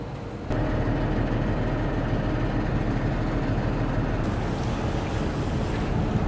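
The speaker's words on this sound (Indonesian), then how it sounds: "Anginnya sama arus kuat ini, soalnya lagi sementara pasang." Strong wind and churning sea current at a rising tide near a barge at a river mouth, a loud continuous roar of wind buffeting and rushing water that swells in after a brief quieter start.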